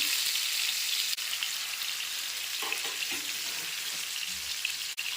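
Medium-sized salted fish pieces frying in hot oil give off a dense, continuous sizzle that stays loud and even, with a few soft clinks near the end.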